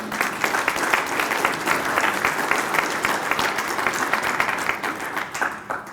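An audience at a state superintendent candidate forum in Idaho applauds the candidates, a full, even burst of clapping from many hands that holds for several seconds and eases off slightly at the end.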